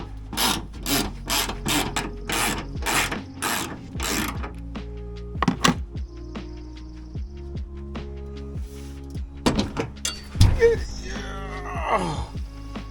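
A ratchet clicks in repeated quick bursts while loosening the hood mounting bolts on a second-generation Toyota Sequoia, followed by metallic clanks and scraping of the tools and hood.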